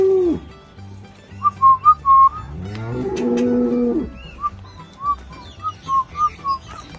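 An eight-month-old half-blood Girolando bull from El Salvador, a Gyr and Holstein cross, gives one long, loud, drawn-out moo in the middle, with short whistled tones before and after it.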